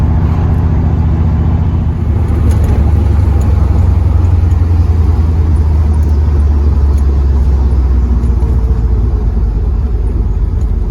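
A car rumbles loudly and steadily from inside the cabin as it drives with the engine running, a deep continuous drone with no pauses and no one talking over it.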